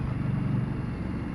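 A 2015 Indian Scout motorcycle engine drones low and steady while downshifting, a continuous near rumble with no voices over it.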